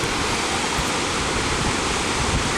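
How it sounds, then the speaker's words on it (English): Middle Falls waterfall as a continuous dense rush of falling water, steady and fairly close, with no voices. "So I think there's a waterfall around here."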